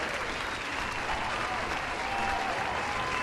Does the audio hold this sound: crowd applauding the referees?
yes